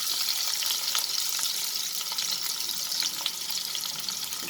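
Garlic and onions frying in hot oil over a reduced flame, a steady dense sizzle with occasional crackles and stirring clicks, close and continuous with no talking.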